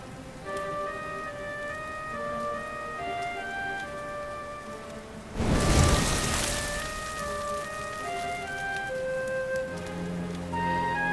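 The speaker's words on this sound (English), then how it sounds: "Looks like the rain's dying down." Steady rain falls across the ruined city in Dragon Quest XI, a dense hiss with tonal game music layered over it and a louder swell of rain and wind around the middle.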